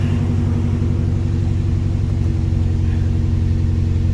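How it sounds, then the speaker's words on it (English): A 2004 Nissan Armada engine idles close by with a steady, even low rumble and a regular rhythmic pulse throughout, and no voices. "engine sounds really good for its year."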